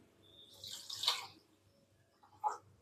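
A short splash of water being poured into a pot of idli kurma, then a second brief splash, quiet and close.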